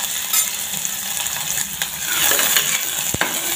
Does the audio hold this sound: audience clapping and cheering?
no